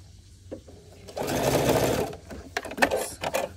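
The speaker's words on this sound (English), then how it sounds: "before I put them under the needle of the machine" A sewing machine stitches quilt fabric pieces for a puff quilt in a short whirring run, then a few brief bursts, fairly quiet and close.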